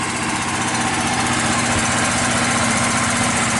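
A DuroMax XP10000EH portable generator runs on propane with the choke fully open, a loud, steady close-up engine drone with constant vibration and no pauses.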